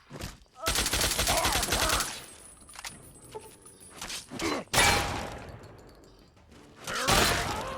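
Bursts of rapid gunfire in Fallout 3 on very hard difficulty, fighting raiders in the Reilly's Rangers quest, ring out loud in several volleys separated by quieter gaps, with some shattering clatter mixed in.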